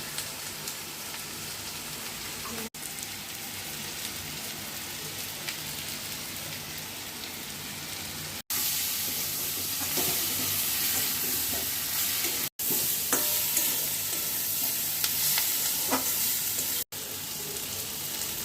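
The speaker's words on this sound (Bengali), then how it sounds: "এবার আলু, পেঁয়াজ আর রসুনটাকে ভালো করে ভেজে নেব" Potatoes, onion and garlic frying in a pan, a continuous crackling sizzle like rain on a surface, interrupted by a few brief cuts and growing louder partway through, with no talking.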